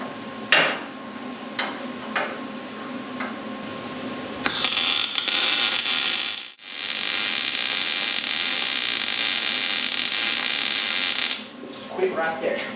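Sheet metal on the nose of a street stock race car is cut with a power tool, first as a few sharp knocks, then a loud continuous grinding hiss with a brief pause, ending in light clanks.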